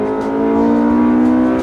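A Proton Satria R3 revs hard as it accelerates out of a corner in first gear, the engine note loud, close and rising steadily in pitch for a short burst.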